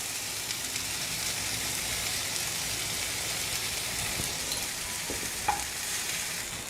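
Mint leaves, tomatoes and salt sauté in a pan for mint chutney, giving a steady, even sizzle and hiss throughout, with a faint stir or clink near the end and no voices.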